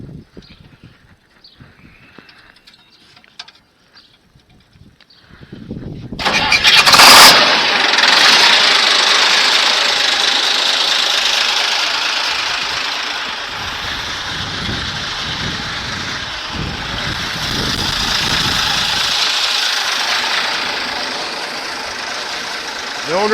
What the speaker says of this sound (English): The old girl starts good, runs good too.